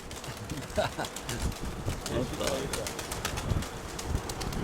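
Pigeons coo and stir their wings in a loft of white-winged birds, soft calls and brief flutters mixing with scattered clicks and someone talking over them nearby.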